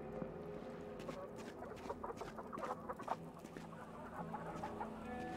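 Chickens in the video game Black The Fall cluck softly and continuously against a steady low ambient background, with occasional quiet clucks rising above it.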